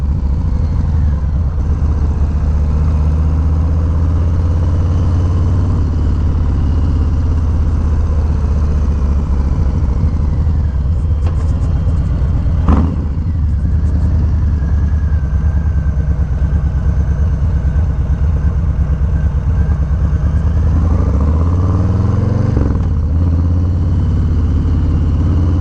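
A 2020 Harley-Davidson Low Rider S motorcycle engine runs steadily with a deep, loud, constant idle rumble throughout, close by, with a brief rev near the middle.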